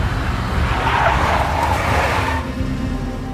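A big black Mercedes drives and skids in the Max Payne 2 video game, a loud continuous engine roar with a broad tyre-scrubbing hiss that cuts off sharply near the end.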